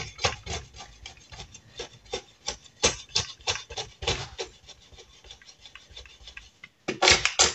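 A hand scraper rasps across a household surface in quick repeated strokes, close and crisp, forming an uneven rhythm that pauses briefly before a final burst of scraping.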